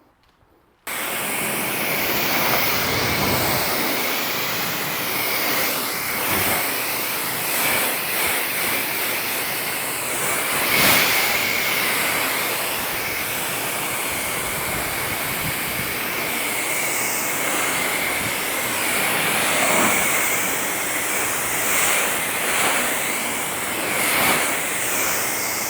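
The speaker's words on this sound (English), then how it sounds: "So we're gonna give it a rinse." Steady broadband spray of water hitting a car hood during a rinse, continuous and fairly loud from start to finish with slight surges, no talking.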